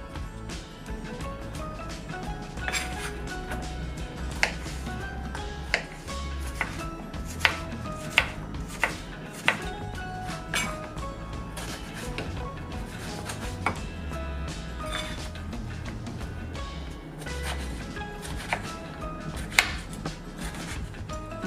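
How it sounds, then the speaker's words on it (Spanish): A knife cuts squash and eggplant into long pieces on a board, giving a long run of sharp, irregular chopping knocks, sometimes rapid and sometimes spaced, close and clear with no talk. "We're going to cut the squash and the eggplant in small long pieces, so then we could cut them into smaller pieces."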